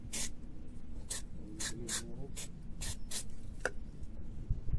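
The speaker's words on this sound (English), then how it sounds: "just spray it and let it dry and clean on its own" Several short hissing bursts of sensor cleaner sprayed onto a Toyota Yaris MAF sensor, close up, spaced about half a second apart with quiet pauses between.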